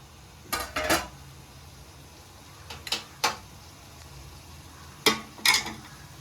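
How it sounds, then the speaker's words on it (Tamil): A metal lid lifted off a steaming vegetable biryani pot on a medium flame, giving a few sharp clanks and scrapes in three short bursts separated by quiet, close by. "நான் திறந்து பார்க்குறேன்"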